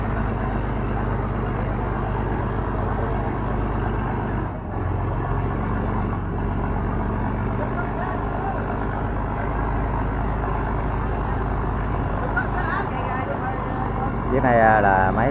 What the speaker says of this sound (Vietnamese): Chiếc này là máy của mình nha các bạn.